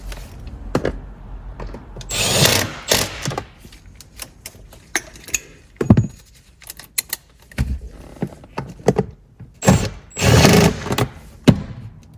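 A power tool tightens 10 mm nuts onto auxiliary battery studs in a 2015 Mercedes-Benz C300, giving short bursts of whirring and ratcheting with clicks and handling thuds in between, close and fairly loud.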